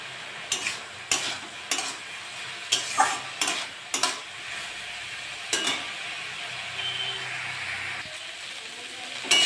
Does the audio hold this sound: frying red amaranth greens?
yes